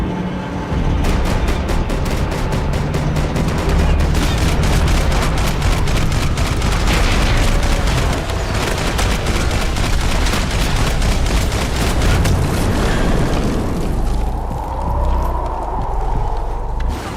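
Dense, rapid gunfire in a shootout from the video game Max Payne 3, continuous overlapping shots and bursts at loud, close range, thinning out near the end.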